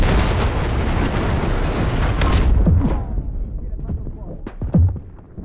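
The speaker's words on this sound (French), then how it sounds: "J'ai fait sauter la grenade." A grenade blast in the World War II shooter game Enlisted sets off a loud, dense roar of explosion noise that fades out, followed by a few sharp pops and thuds.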